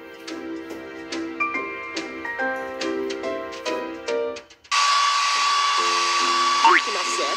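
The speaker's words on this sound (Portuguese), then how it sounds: "Clique no secador de cabelo para secar o pelo do filhote." A hair dryer blowing a puppy's fur dry in a Paw Patrol video game: after several seconds of plinking game music, a steady, loud whooshing drone with a high whine switches on abruptly and runs to the end.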